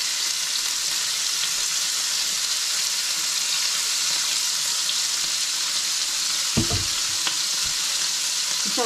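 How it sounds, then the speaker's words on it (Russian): Meat frying on high heat in a pan sizzles steadily and loudly for the whole stretch, with a couple of brief stirring knocks near the end and no talk. "Сейчас я обжариваю на сильном огне мясо"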